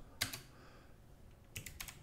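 Typing on a computer keyboard, two short quiet clusters of clicking keystrokes separated by a pause, close and faint.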